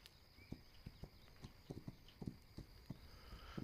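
Horse hooves clip-clop in the video game This Land Is My Land, a steady run of sharp, fairly close hoof strikes at a walking pace, with no talk over them.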